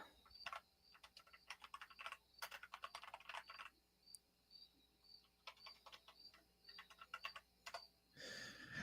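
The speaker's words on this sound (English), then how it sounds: "I just think it's so appropriate that there's these cricket sounds coming from you, Yang" Crickets chirp through a livestream participant's microphone in repeated bursts of rapid high pulses with short pauses, faint and steady, while a brief rustle ends the stretch.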